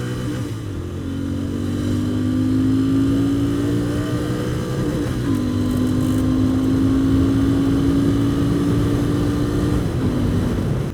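A Royal Enfield Interceptor 650 engine pulls hard and steady, its note rising through the gears with a brief dip at a shift midway, loud and close throughout with no talk.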